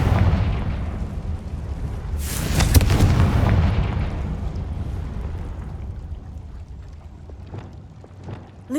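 A Confringo blasting spell explodes in Hogwarts Legacy, a loud booming burst with a bright crackling flare near the middle, then a rumbling tail that fades over several seconds, with a few faint clicks near the end.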